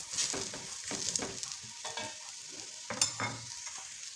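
Egg paratha, a flatbread made with flour and egg, frying in ghee in a pan. It gives a steady soft sizzle, broken by scraping stirs and the flip of the bread, all close and alone.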